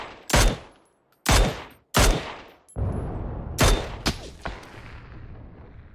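Several sharp, loud gunshots in a shooter video game, spaced about a second apart with echoing tails, followed by a rumbling burst and a quick cluster of further shots toward the end.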